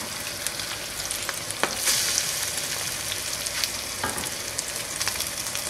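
A pan of eggs crusted with crispy chorizo sizzles continuously, with bright crackling pops and a few scraping stirs heard up close, unbroken by any voice.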